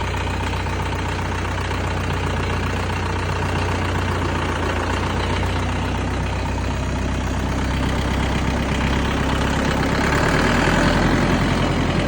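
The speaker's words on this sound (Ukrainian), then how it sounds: "От кому треба великий трактор з хорошим кліренсом на великих колесах." A large Bulat 504 wheeled tractor idling, its engine a steady loud low rumble with a slight knock, continuous and unbroken throughout, with no talk.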